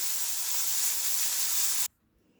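Chopped onion frying in oil in a small pan on the stove, a steady close sizzle and hiss for about two seconds that stops abruptly.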